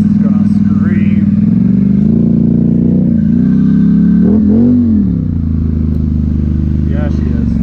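Polaris Sportsman 1000XP ATV with a new engine and stage 3 tune idles and revs close up, a loud throbbing drone that rises and falls through several revs, with someone speaking over it.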